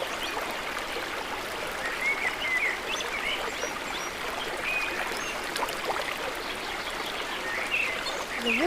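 Matai and Horseshoe waterfalls rush steadily inside a forest, a constant watery roar with birds chirping faintly in short calls above it.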